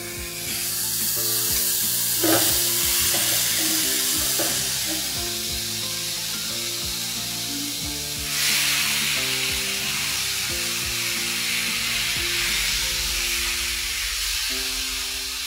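Beef steak sizzles in olive oil in a hot pan at home, a steady broadband frying hiss that runs throughout with a few louder crackling bursts and faint tonal background sounds underneath.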